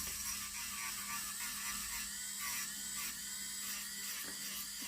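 A steady high-pitched electric whir of a nail file sanding band, running continuously at close range with slight wavering in pitch.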